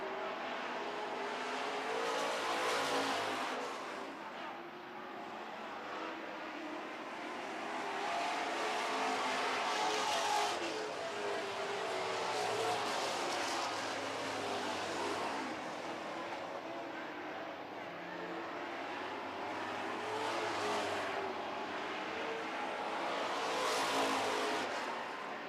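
Super trucks race around a track, their engines roaring past in repeated swelling waves. The loud passes come every few seconds with faint tire noise, and race commentary runs underneath.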